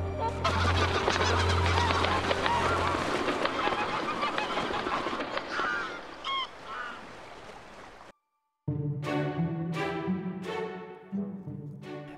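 Migrating birds call over a nature reserve at peak passage, a dense chorus of honking, goose-like calls and cackles, loud and layered, then after a brief gap a few sharper, closer repeated honks.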